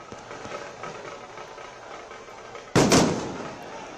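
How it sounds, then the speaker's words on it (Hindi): Firecrackers and bomb blasts at street celebrations of India's cricket win over Pakistan: faint distant crackling, then one sudden loud blast that rings out and fades. "बम धमाके पटाखे सबके साथ"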